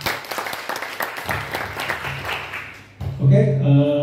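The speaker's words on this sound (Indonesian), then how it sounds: "Tepuk tangan buat PT Udes ya." Audience applause at an Indonesian sharia business seminar on paying off debt, steady clapping filling the room, with a speaking voice and music-like tones rising over it near the end.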